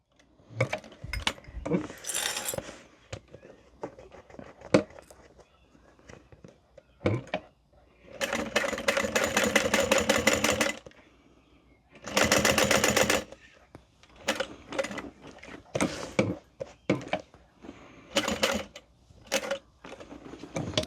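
A sewing machine stitches a modified Erica Bowler bag in short rattling bursts, with two longer runs in the middle, broken by pauses, clicks and handling noises.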